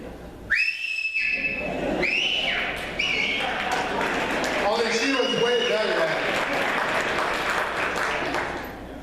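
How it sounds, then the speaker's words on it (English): Loud human whistling at a hall of fame banquet, with sharp rising whistle bursts and a long shrill sustained whistle, soon joined by a crowd cheering and applauding over it. "she taught me how to whistle like that"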